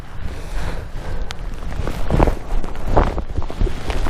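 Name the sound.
wind on a fell top in the Lake District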